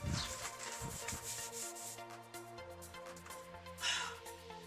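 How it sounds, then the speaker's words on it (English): Steady rubbing strokes of sanding epoxy primer on an MGB GT car body, with sustained tones humming in the background. "we're sanding back the first layer of epoxy paint that we put on"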